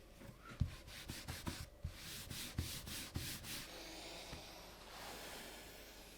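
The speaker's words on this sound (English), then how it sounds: "I will rub some Renaissance wax." Renaissance wax rubbed by hand onto leather for a small key tray, a series of rhythmic scratchy strokes up close, easing into a softer continuous hiss of rubbing.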